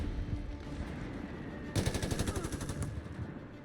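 Light machine gun fire in Company of Heroes 3, a rapid rattling burst of about a second amid a wartime battlefield rumble, with no voices.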